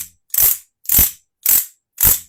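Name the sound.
clatterpillar (cocorico) percussion instrument rattling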